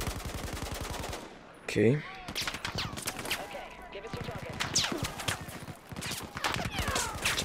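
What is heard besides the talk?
gunfire from a big gun in the video game Battlefield 4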